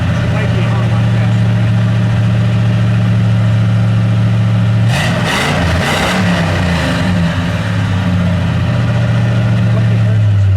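A 1970 Ford Torino 429 Cobra Jet Ram Air V8 with a 4-speed, running close and loud at a steady idle rumble, with a brief surge of revving in the middle before it settles back.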